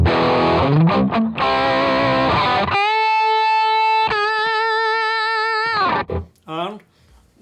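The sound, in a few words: distorted electric guitar through Kemper profile with clarity raised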